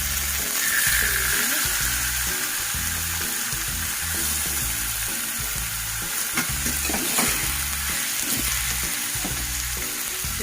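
Janjangan mushrooms fry in a pan with a steady, dense sizzle, while a utensil stirs and scrapes with low knocks throughout. No one speaks.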